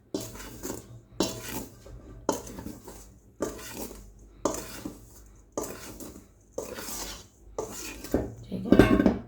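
Pizza dough ingredients are mixed in a bowl, heard as a run of regular scraping, knocking strokes about once a second, close and moderately loud, with a busier clatter at the end.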